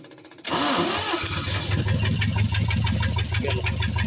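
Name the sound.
engine starting after spark plug test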